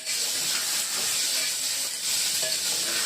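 Chana dal, urad dal and curry leaves frying in a pan, giving a steady, soft sizzle with faint crackles and a few stirring scrapes throughout, no voices.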